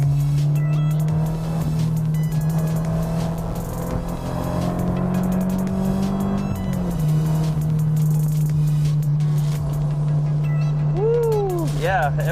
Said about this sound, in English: So I'm going to gear down here. We got a tight turn coming up